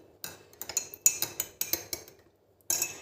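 A spoon stirs a homemade drink in a glass, making a quick series of light, bright clinks and taps against the sides. The clinks are close and fairly soft, with a short pause before a final burst.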